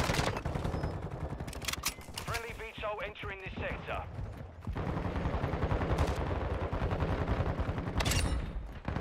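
A sentry gun in Call of Duty: Modern Warfare II fires rapid bursts of automatic shots, close and punchy, with other gunfire and game noise mixed around them.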